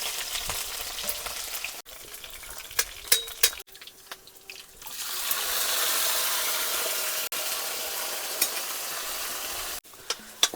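Steady frying sizzle of bitter gourd in a wok, with intermittent scraping and clinking of a utensil stirring, the sizzle swelling louder midway.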